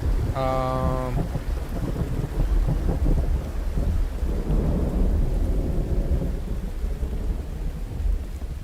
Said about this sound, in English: It looks like we got a thunderstorm again.